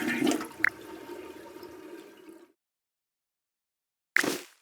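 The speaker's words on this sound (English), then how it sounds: "Ooh, it flushed on its own." Automatic toilet in a train station bathroom flushing on its own: a loud rushing flush for about two and a half seconds, then silence, then a second short burst of rushing water near the end.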